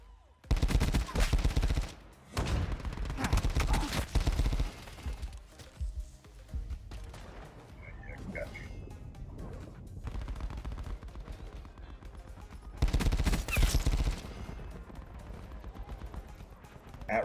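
Tigershark burst rifle fire in a video game, loud rapid volleys at the start and again near the end, with sparser shots and game effects in between.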